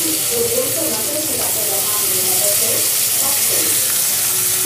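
Finely chopped green chillies and onions fry in hot oil with a loud, continuous close sizzle, while a voice talks faintly underneath.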